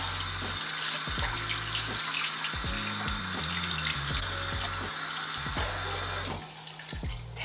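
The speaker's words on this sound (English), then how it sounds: "And now we rinse with lukewarm water." Lukewarm water runs from a tap into a sink for rinsing. The close, steady rush is broken by splashes and gurgles, and near the end the flow thins out.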